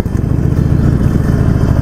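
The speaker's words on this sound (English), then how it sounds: "hopefully you can hear me over the stock exhaust" A motorcycle engine with a stock exhaust idles close by, a loud, low, steady rumbling throb with a fast pulsing beat.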